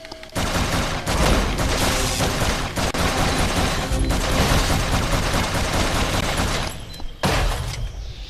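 Dense, loud sustained gunfire from the 2013 Flashback remake's unlimited-ammo gun: a continuous rattling barrage that runs for about seven seconds, cuts out briefly, then resumes.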